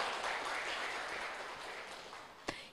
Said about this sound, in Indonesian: Berkat tepuk tangan juga semangat untuk kelima regu kita.